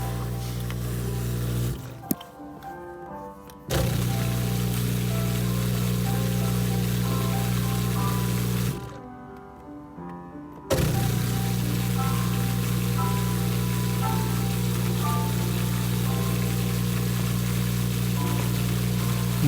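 A dishwasher runs its drain cycle with a steady low motor hum and watery churning. The hum cuts out twice in short gaps and then resumes at the same level.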